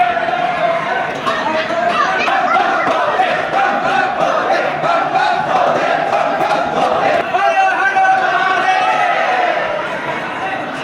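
Dense temple crowd at the Mahakaleshwar shrine in Ujjain shouting praise to Mahakal in a large hall, a sustained loud roar of many voices chanting and calling together without pause.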